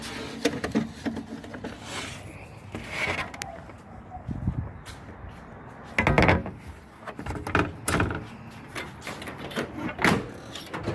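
A T-top roof panel is set into place on a 1986 Monte Carlo SS, with a series of sharp knocks, clunks and rattles against the body, close and moderately loud, scattered irregularly through the clip.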